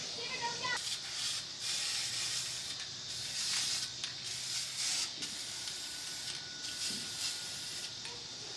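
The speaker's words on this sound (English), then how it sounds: "I'm going to just go ahead and spray them with this primer" An aerosol can of primer sprays in a series of short, hissing bursts separated by brief pauses, close and fairly quiet.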